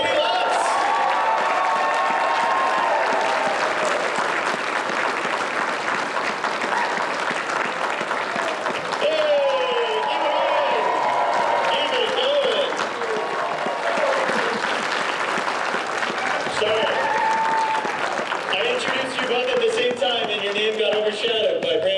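Fan festival audience at a Legends of Tomorrow panel applauding and cheering as guests Brandon Routh and Caity Lotz take the stage, a dense sustained roar of clapping with whoops, steady and loud throughout with brief voices mixed in.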